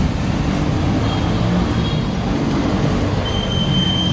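An LRT light rail train rolls past overhead near a bike shop on a city street, a loud continuous rumble of wheels on track with faint high squealing, filling the whole stretch without talk.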